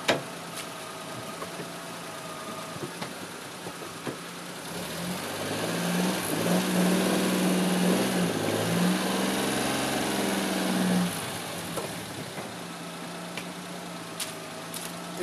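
An old Invacar engine, left in a field for 14 years with seized wheels, cranks and tries to start, swelling into a louder mechanical churn for several seconds before dropping back to a quiet background.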